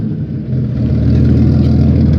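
Rebuilt original V8-style car engine fitted with a Demon 650 carburetor rumbles loudly and close, with a steady deep low-end idle that swells slightly after starting; no talk.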